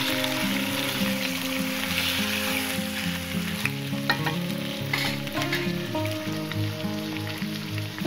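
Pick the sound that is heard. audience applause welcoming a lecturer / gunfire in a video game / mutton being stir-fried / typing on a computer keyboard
mutton being stir-fried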